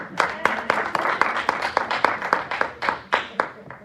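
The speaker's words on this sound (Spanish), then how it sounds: "Vamos a dar un aplauso a Harley" A small group claps at a Bible study, an irregular, close and fairly loud run of separate hand claps that comes in uneven bursts.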